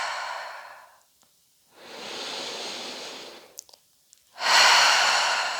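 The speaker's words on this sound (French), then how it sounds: "N'hésitez pas à expirer par la bouche." Slow, audible exhalations through the mouth during a gentle prenatal yoga session, three long breathy rushes separated by quiet pauses, close and clear with no talking.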